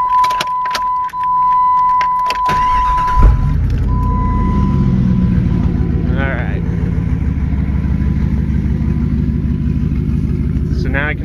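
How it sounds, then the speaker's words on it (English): An electronic chime beeps, then a Jeep Grand Cherokee ZJ engine cranks and starts, settling into a steady idle rumble nearby while someone talks briefly. "Let's start the Jeep up"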